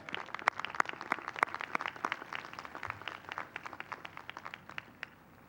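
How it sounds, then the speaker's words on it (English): Graduation audience claps for newly conferred doctoral graduates, a lively patter of many hands that stays busy and bright for several seconds, then gradually tapers off toward the end. "Let's give another round of applause to our doctoral graduates"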